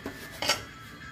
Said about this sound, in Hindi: कुकर हम खोल लेंगे।